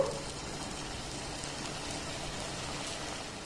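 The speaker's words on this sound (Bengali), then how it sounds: "একইভাবে অবশিষ্ট মিষ্টিগুলোকে ভেজে নেব।" Wheat flour and ripe mango sweets fry in hot oil, a steady even sizzle and crackle throughout with no talking.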